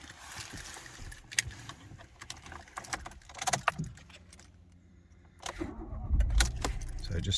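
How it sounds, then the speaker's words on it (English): A Ford Fiesta ST-Line Red Edition is started with the key, with keys jangling and clicks, then the engine catching and settling into a low idle near the end; fairly quiet and close. "So it just starts on the first turn of the key."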